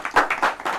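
A short, close burst of audience applause at a comedy poetry gathering, with a few distinct rhythmic clapping swells, loud and without talk.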